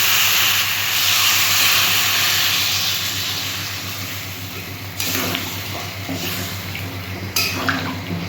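Water goes into a hot curry of tomato and potato and sets off a loud, broad hiss of steam and sizzling. The hiss slowly eases, and two sharp clanks of the pan or lid cut through near the end.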